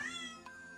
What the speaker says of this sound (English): there's a cat meowing back there.